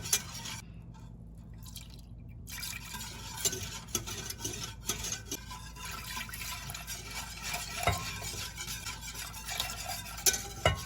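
A whisk stirs milk into a dusty cornstarch and flour mixture in a pan on an unlit burner, giving soft, steady scraping and swishing with small liquid drips and clicks, faint and close throughout.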